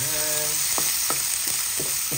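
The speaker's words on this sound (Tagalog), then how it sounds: "Together with ating bawang, atin na pong ginigisa." Chopped onion and garlic sautéing in a hot pan, a steady bright sizzle throughout with several short scraping stirs of a spatula at regular intervals, close and fairly loud, no talking.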